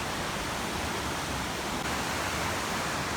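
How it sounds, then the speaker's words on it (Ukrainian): The Zhenets river in the Carpathians flows under a footbridge, a steady, loud broadband rush of water with no pauses. "Річка Женець, місток через неї."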